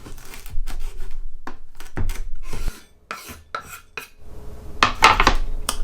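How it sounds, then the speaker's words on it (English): A knife chops crispy cooked bacon into small pieces on a board, making a run of sharp, close, uneven knocks and scrapes, with a brief pause midway. "So we need to chop it up into little pieces"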